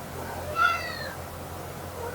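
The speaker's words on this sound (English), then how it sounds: "If you hear me out or you happen to see something jump up on my lap, it's my cat, Ray." A single short cat meow rises faintly over a quiet indoor background, heard once and fairly distant, with no one speaking.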